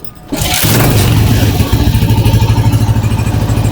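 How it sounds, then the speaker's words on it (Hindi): A restored Honda CG 125 motorcycle, cold and idling too fast, starts up close by and settles into a loud, steady run with an even pulsing throb. "तो बाइक को अगर स्टार्ट करके चेक करते हैं,"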